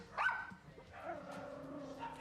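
Rescued dogs held in kennels after a dramatic rescue bark and yip, a sharp near bark followed by a continuous chorus of overlapping barks and whines echoing through the kennel space.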